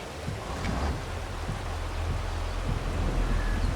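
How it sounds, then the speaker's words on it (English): Steady rain falls in Farming Simulator 22 on a Saskatchewan farm, a continuous broadband wash with a low rumble beneath, soft and even throughout with no voices. "I think the rain's gonna ease off any minute now."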